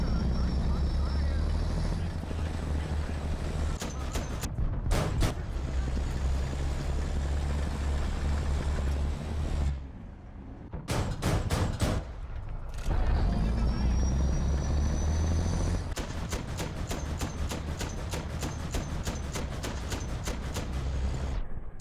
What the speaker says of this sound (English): you'll hear like the sound of the engine